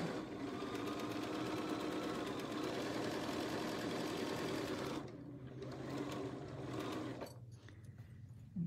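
A sewing machine run by a foot pedal stitches a quarter-inch seam on a zippered box bag, a steady close mechanical whir for about five seconds that dips, resumes briefly, then slows to a stop.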